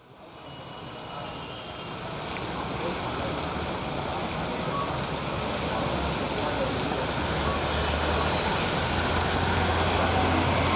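Heavy rain pours down on Anna Salai road in Chennai as a dense, continuous hiss that builds over the first seconds and then holds loud and steady, with a faint low traffic rumble beneath.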